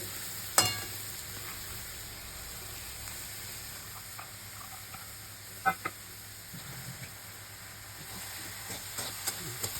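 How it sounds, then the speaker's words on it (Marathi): Ridge gourd sabzi with soaked chana dal being stirred in a pan, a quiet steady sizzle with a few soft utensil scrapes and clinks scattered through, no talking. "आणि भाजी नीट मिक्स करून घेऊ"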